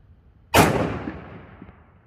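A single close shot from an XDM Elite 3.8 10mm pistol, fired left-handed, gives one sharp, loud crack that fades in a long tail of echo.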